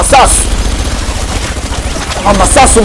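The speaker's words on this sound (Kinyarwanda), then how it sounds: "amasasu mu gisagara umva amasasu" Rapid bursts of gunfire crackle in a continuous fusillade, with short voices or shouts breaking in near the start and end.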